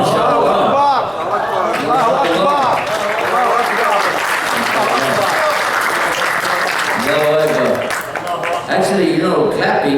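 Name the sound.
audience applause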